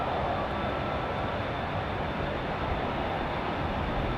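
Airbus A380 airliner departing Heathrow runway 27R, a steady, broad roar of jet engines that fills all 4 seconds with no breaks, loud and continuous with no voices over it.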